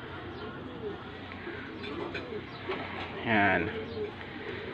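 Pigeons coo softly in a loft at feeding time, low throaty calls repeating over a background of shuffling and rustle, with someone talking over them.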